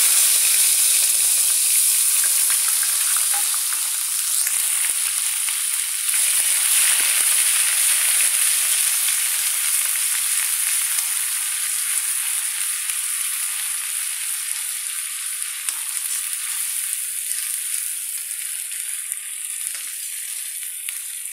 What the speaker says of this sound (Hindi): प्याज लहसुन को भून लेते हैं।